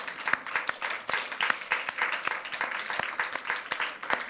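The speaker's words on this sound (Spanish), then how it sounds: "Dale un aplauso entonces al Señor." Church congregation clapping for the Lord during a Spanish-language sermon, a modest group of distinct, fairly rhythmic hand claps, close and moderately loud, with no talking.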